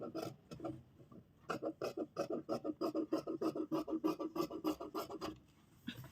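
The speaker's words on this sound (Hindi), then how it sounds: "अभी जो भी एक्स्ट्रा कपड़ा है उसको कट कर देंगे।" Fabric is cut with scissors after stitching a garment, a rapid series of close, crisp snipping and rasping strokes in a steady rhythm with a brief pause near the start and a quiet end.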